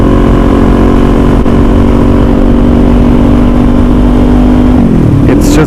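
A 2021 Kawasaki Z400 motorcycle riding on a road gives a loud, steady engine drone with heavy wind rush, and the pitch falls off near the end.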